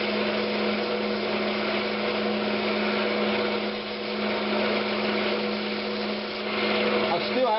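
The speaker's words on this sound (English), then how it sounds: "I don't want to sand too much on that tenon" Sandpaper is worked against a spinning Brazilian cherry box tenon on a wood lathe, making a steady, close whirring drone that holds evenly throughout with only slight swells.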